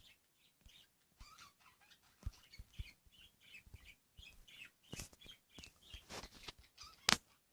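Scattered video-game bird chirps and squawks come in short bursts with gaps between, fairly faint, with a sharp louder click near the end.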